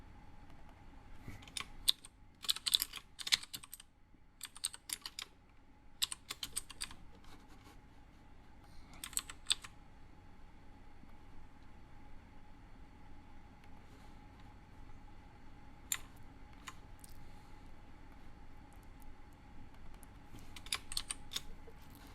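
Bursts of fast clicking on a computer keyboard, several clusters of keystrokes separated by quiet pauses over a faint steady hum.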